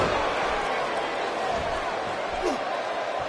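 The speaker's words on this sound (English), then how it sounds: "by the sounds of it, this crowd is ready for anything that happens tonight" A wrestling arena crowd in a WWE video game, streamed on PS4, keeps up a steady, dense roar throughout, with a faint thump near the middle.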